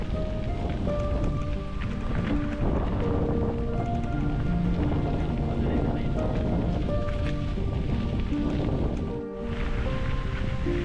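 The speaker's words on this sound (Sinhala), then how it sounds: "මේ හරිය සුළඟ හරි සැරයි" Strong wind blows across Sorabora Wewa, a reservoir, on a cycling trip around Sri Lanka, roaring steadily and loudly throughout with a rain-like rush and one brief lull near the end.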